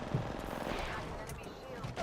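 Automatic weapon fire in the video game Apex Legends, a quick burst of rapid shots over game sound, with a voice speaking during it.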